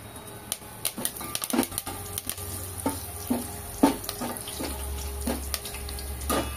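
Curry leaves crackle and spit in hot oil while cooking Marathi varan chakolya, a steady close frying hiss with sharp pops scattered throughout, some kitchen clatter alongside and no talking.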